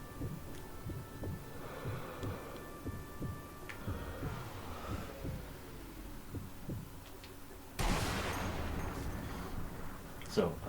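A single sniper rifle shot in the World War II shooter game Sniper Elite V2 cracks loud and close partway through, with a long rumbling tail over a low, throbbing game ambience.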